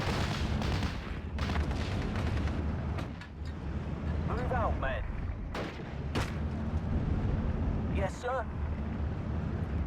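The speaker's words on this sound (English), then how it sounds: "So that's 20 mil, I think. Like a 20 mil cannon." In the Steel Division: Normandy 44 video game, 20 mm cannon fire booms repeatedly in bursts amid dense battle noise, with someone talking throughout.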